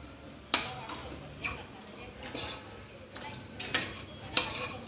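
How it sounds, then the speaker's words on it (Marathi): Moong dal dry-roasts in a pan, stirred with a spoon that scrapes and gives periodic sharp taps against the metal, about five distinct knocks spaced over a quiet grainy rustle, with no voices. "मुगाची डाळ ही आपल्याला तशीच लालसर आचेवरती भाजून घ्यायची आहे"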